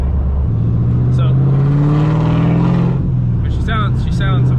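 A supercharged LS V8 swapped into an Infiniti G35, running 1 3/4-inch primaries, 3-inch collectors and a 3-inch true dual exhaust, revs hard and loud up close. The engine climbs steadily for a couple of seconds, then drops back, with voices briefly heard near the end.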